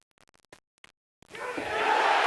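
A few faint taps and clicks lead into a loud, building swell of crowd cheering and shouting after a shot at a pool match, which rises and holds at full strength.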